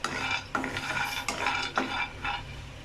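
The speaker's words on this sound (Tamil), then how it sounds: "இது வந்து கொஞ்சமாக வறுத்த மாதிரி எடுத்துடலாம். நம்ம கொஞ்சம் மீடியம் ஹீட்டில் வச்சு வறுத்துக்கோங்க." Cashews are roasted on medium heat in a pan, stirred in slow strokes that give quiet, rhythmic scraping swishes with a faint sizzle between them, and no talking.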